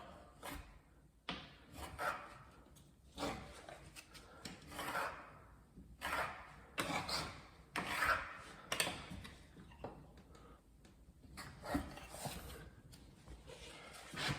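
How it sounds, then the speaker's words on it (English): A scraper is dragged back and forth to pull hot glue off a wall, giving repeated soft rasping strokes and light ticks, close and fairly quiet with no talk. "gently scrape along. Go one way, then go the other way. That'll pull the hot glue right off the wall."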